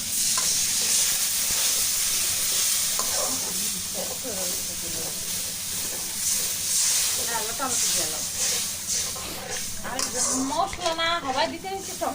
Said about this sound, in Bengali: মশলাটা ভালো করে মিশিয়ে আমি এখানে পানি অ্যাড করে দিব।